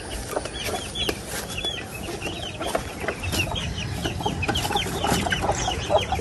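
Several chickens cluck steadily at a fishpond farm, with short overlapping calls and a few rooster-like notes repeating close by over a constant outdoor hum, and nobody speaks.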